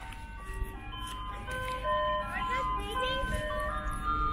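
An ice cream truck's jingle plays as a bright melody of repeating tones, steady and fairly loud, over low road rumble from passing traffic.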